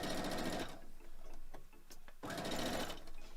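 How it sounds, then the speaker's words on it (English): A sewing machine chain-stitching quilt block pieces together runs in two steady bursts of rapid needle chatter, with a brief quieter pause and small clicks between the runs. "I am chaining as I am sewing these pieces together"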